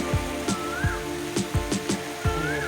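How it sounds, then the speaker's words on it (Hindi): Heavy rain falls at a mud house in rural Pakistan, with loud, irregular drops striking close by over a constant wet hiss. "बारिश ज़्यादा हो रही है"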